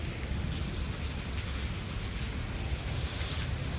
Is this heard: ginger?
no